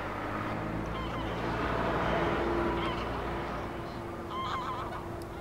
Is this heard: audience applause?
no